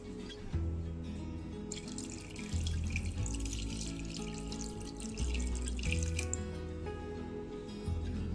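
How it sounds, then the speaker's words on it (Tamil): Water poured into a pressure cooker holding mutton for salna, a steady close splashing stream that runs for several seconds, with gurgling shifts as the level rises, under a constant background hum. "இப்போ மட்டன் வேக வைக்கிறதுக்கு தேவையான அளவுக்கு தண்ணி ஊற்றிக்கோங்க குக்கரில்."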